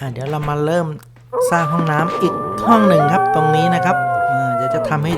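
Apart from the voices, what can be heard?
No everyday noise stands out behind the speech.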